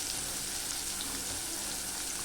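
Onion and green chili sizzle in a hot tempering of oil, cumin and curry leaves for upma, a continuous dense frying hiss, close and even, with no breaks or voices.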